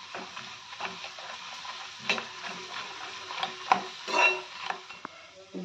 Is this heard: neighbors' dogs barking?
no